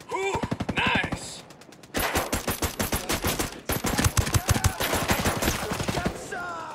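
Rapid gunfire in Ghost Recon Breakpoint, loud bursts of automatic shots in quick rhythmic volleys, with a brief pause before the firing resumes in sustained strings of sharp cracks.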